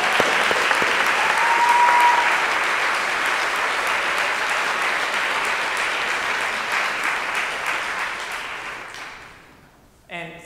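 Sustained applause for the judges at a 2014 fast pitch event, a dense steady wash of clapping from the audience that holds for about nine seconds before fading out, with a brief burst of sound at the very end.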